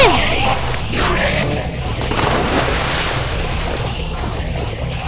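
Water splashes and rushes in a Minecraft game as players dive in to escape a fight, a loud, continuous wash of surf-like noise with a brief swoosh at the start.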